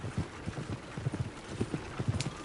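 Horse hooves clip-clop at a steady walking rhythm in the Red Dead Redemption video game, the footfalls moderately close and fairly quiet, with no talking over them.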